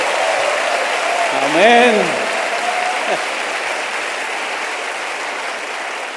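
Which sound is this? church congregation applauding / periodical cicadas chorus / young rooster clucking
church congregation applauding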